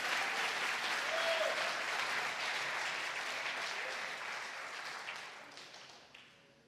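A congregation at a Brazilian church service applauds in a thick, continuous wash of clapping that holds steady and then gradually fades toward the end.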